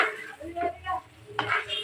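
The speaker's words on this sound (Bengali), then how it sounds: "এখন নুডলস দিয়ে দিলাম নেড়ে সেড়ে মিশিয়ে দিতে হবে" Fried egg, carrot and noodles are stirred in a pan, producing close scraping and clinking of a utensil against the metal with a faint sizzle underneath.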